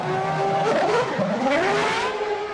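A Ferrari Formula 1 car from the 1998 season exits the pits with a loud, close high-pitched engine whine rising and shifting in pitch as it accelerates, continuous throughout with no voices.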